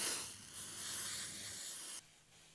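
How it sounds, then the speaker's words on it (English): An aerosol can of suede shoe cleaner sprays in a steady, close hiss for about two seconds, then cuts off to a faint residual hiss. "pop it, and spray"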